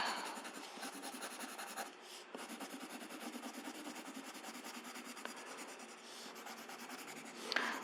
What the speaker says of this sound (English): I'll turn it over and trace this with a ballpoint pen to press it onto the paper.